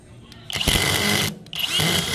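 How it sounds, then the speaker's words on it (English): A Grizzly cordless drill whirs loudly in two bursts, a longer run then a short pause before it spins up again, close by, in a tool showroom. "Here's a little hands-on demo with their uh, cordless power tool line."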